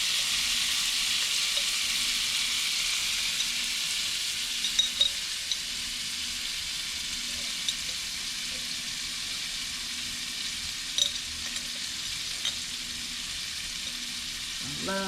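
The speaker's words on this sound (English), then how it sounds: "a little minced garlic. Toast that up a little bit." Minced garlic toasts in a pan for seafood egg rolls, giving a soft, even sizzle with a few light clicks of a utensil, close but gentle and without talk.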